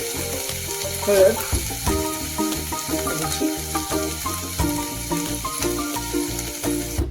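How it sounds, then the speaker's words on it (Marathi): Green peas for usal sautéed in a pan, a steady crackling sizzle with occasional stirring sounds beneath a hum, and a brief spoken word partway through. "वाटाणे चांगले असे परतून घ्यायचे।"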